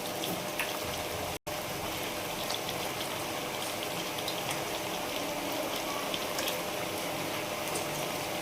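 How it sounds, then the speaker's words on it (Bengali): Bengali lote (Bombay duck) fish curry simmering in a pan, a steady dense bubbling and sizzling that stays close and even throughout, broken by one brief dropout near the start, with no voices. "এই লটে মাছ রান্না করতেছে তোর মা"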